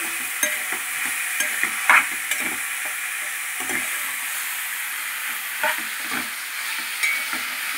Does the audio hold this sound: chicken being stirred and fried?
yes